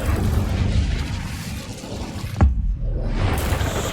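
An Incendio fire spell erupts in Hogwarts Legacy, a steady roaring rumble broken by one sharp, heavy impact midway before the rushing blast sound resumes, loud and close.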